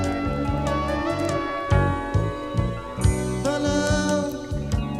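Bass guitar with the neck pickup rolled off, playing a focused, tighter groove of punchy repeated notes within a disco-style track, loud and steady with no talk.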